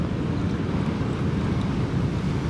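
Ocean surf surging steadily into a natural rock pool along a coastal hiking trail, a continuous loud broadband roar of churning water and wind that fills the whole moment without letup.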